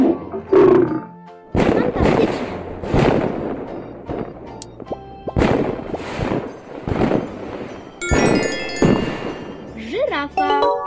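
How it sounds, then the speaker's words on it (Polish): A lion roars several times in bursts amid children's puzzle game sound effects and chimes, loud and close. "lew."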